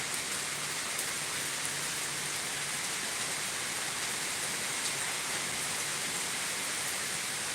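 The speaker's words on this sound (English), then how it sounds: "I get here and here comes the rain." Heavy rain pours steadily and densely at Thurmond, West Virginia, a constant broadband hiss with scattered drop hits that continues unbroken throughout.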